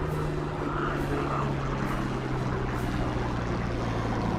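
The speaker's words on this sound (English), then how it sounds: "Pulling the Hurricane around for a half Cuban." A Hawker Hurricane fighter, built 1944, banking through a half Cuban manoeuvre during a Battle of Britain Memorial Flight display, its piston engine a steady loud droning roar throughout.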